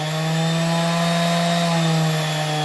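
A Bosch GEX 125-1 AE eccentric orbital sander runs steadily nearby with a constant buzzing hum and high whine, no speech over it.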